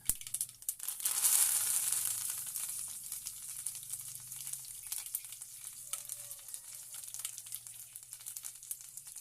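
Cumin seeds and curry leaves sizzle in hot oil while making a Tamil-style potato fry, a steady bright crackle swelling early and then settling into a continuous frying hiss, close and alone with no talk.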